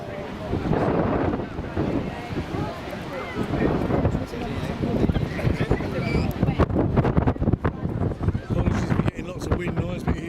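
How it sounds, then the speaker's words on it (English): Gusty wind buffets the microphone at an outdoor rugby match, a loud, uneven roar that rises and falls throughout while a voice talks underneath. "Really quite blowy here today."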